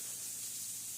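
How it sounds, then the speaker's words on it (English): Butter spray hisses onto a skillet in one continuous, soft, airy burst. "So you can spray a little butter spray so it don't stick."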